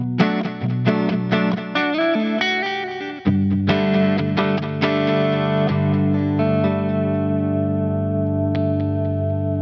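A clean Squier Classic Vibe Jazzmaster on its rhythm circuit with neck pickup strums a rhythm with warm, rounded tone, several quick chords then sustained ringing notes, played alone with no talking.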